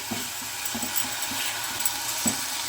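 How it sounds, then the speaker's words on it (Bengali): Methi saag is stirred in a pan with turmeric and dried chili, giving soft irregular scraping and knocking under a steady low sizzle, quiet and close. "ভালো করে নেড়ে দিই।"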